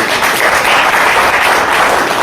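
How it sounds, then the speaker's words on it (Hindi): Steady audience applause at a Hindi-language gathering promoting an Ayurvedic company, dense continuous clapping filling the whole stretch at an even, fairly loud level with no voices on top. "जो तालियां होनी चाहिए।"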